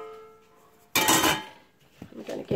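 Butter and icing sugar for Halloween cupcake frosting stirred in a bowl, a sudden clattering scrape of utensil against the bowl, then a few more scraping knocks, close and fairly quiet.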